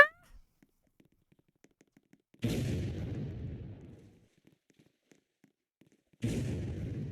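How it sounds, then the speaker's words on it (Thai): Two heavy, booming video-game explosions in Roblox a few seconds apart, each a loud broadband burst that rumbles and fades, with near-silence and faint ticks between them. "เสียงระเบิด ชัดเจน"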